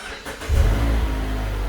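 A 2022 Mazda CX-30 engine starting up close: a short quiet stretch, then the starter catches and the engine fires into a loud, steady low idle hum.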